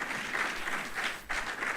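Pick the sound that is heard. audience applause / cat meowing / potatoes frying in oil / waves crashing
audience applause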